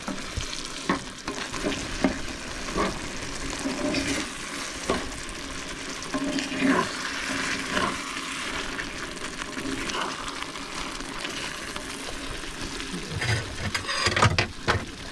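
Pasta sauce simmers in a pan on a stove inside a camper van in the Nevada mountains, giving a steady close sizzle and bubbling with a few soft stirring knocks and clinks, and no talking.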